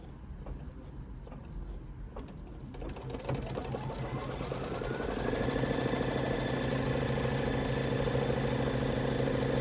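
An embroidery sewing machine stitching fabric held in a hoop, starting with scattered clicks and rising into a steady, fast mechanical whir and hum that holds on close and even.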